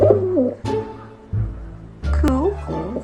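A pet pigeon coos indoors in short bursts, the soft low calls trading off with a voice speaking close by.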